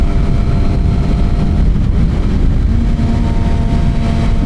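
A Suzuki GSXR 750 motorcycle with a Yoshimura R77 full exhaust and a Moore Mafia tune being ridden, its engine droning loud and steady throughout under heavy wind rush, without speech.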